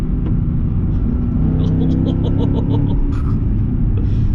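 Mercedes CLS55 AMG engine pulling under throttle from inside the cabin, a loud steady low rumble that builds slightly as the car accelerates, with no talk over it.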